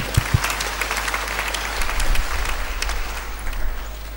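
Scattered applause from a small church audience, a few sharp claps rising into a brief patter over a low steady hum, fairly close and moderate in level.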